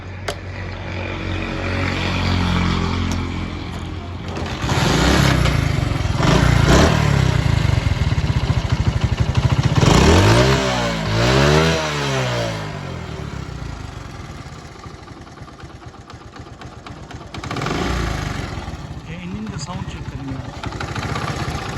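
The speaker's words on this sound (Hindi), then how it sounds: "आपको साउंड चेक करवाएंगे कि मोटरसाइकिल के साउंड की कंडीशन क्या है" A 15-year-old Honda CD 70 motorcycle engine runs loudly nearby, idling and then revving up and down in a few surges, with a voice speaking over it at times.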